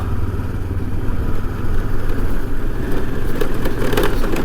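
A motorcycle engine pulls uphill on a mountain road at about 1900 metres, a steady close drone with a low throb and some clatter, running alone without speech.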